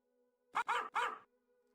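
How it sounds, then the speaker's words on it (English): A dog bark sound effect plays on a livestream, three quick, close barks in a tight burst over a faint background hum. "that was a laggy bark"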